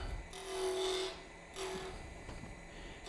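A wood lathe turning tool cuts spinning wood in two long, close rasping passes separated by a short pause, over a steady motor hum.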